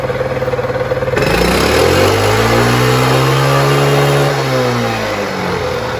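A Suzuki Z50 minibike engine revs up hard from a fast idle, climbing to a loud sustained high-rpm whine, holding, then dropping back; close and alone with no talk.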